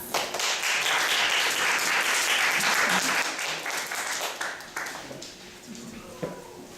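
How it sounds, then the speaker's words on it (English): An audience applauds to welcome a speaker at a talk, a full wash of clapping that rolls on for several seconds before thinning out, with a few voices and faint sounds underneath at the end. "let's please welcome him with a big round of applause"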